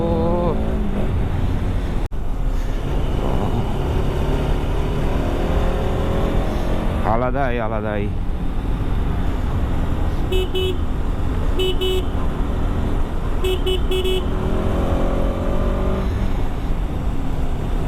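A motorcycle rides a winding mountain road between Zuluk and Berhampore, its engine droning continuously up close with wind rush, a few short beeps partway through, and a rider talking over the noise.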